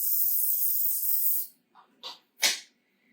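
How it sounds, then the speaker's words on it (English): A steady close hiss of aerosol cooking spray onto the bottom of a baking pan for about a second and a half, followed by three short spurts of spray. "just go ahead and spray the bottom of the pan with either olive oil or Pam"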